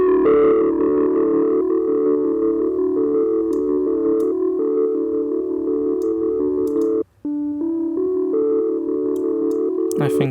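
Sustained distorted synth pad built from wavetables in the Phase Plant synthesizer, a steady layered chord with gritty low-drive saturation, holding loud and even with a brief dropout before continuing with shifting notes.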